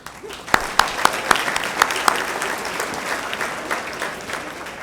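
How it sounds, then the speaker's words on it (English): A small group claps, a few sharp early claps growing into a brief scattered round of applause that softens and fades. "I'd like to lead a nice round of applause for all your guests and parents here today"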